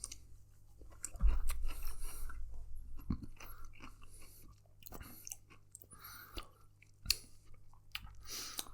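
Someone chews spicy courgette from a Xi'an-style banquet dish up close, with soft wet crunches and mouth sounds repeating irregularly over several seconds, quiet and with no talking.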